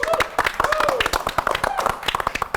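A small group claps in a quick, uneven burst of sharp hand claps, close and lively, mixed with talking voices throughout.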